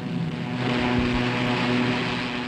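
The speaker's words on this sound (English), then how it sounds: "The craft was powered by a single Rolls-Royce gas turbine engine." Hovercraft powered by a single Rolls-Royce gas turbine engine, crossing desert sand: a loud continuous roar with a steady droning tone and a faint rising whine, heard alone.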